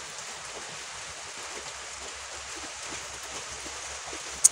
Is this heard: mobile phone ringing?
no